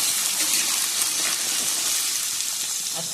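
Water poured into a kadai of potatoes frying in white oil, a close hissing, gushing sizzle that holds steady and eases slightly toward the end, with no talk.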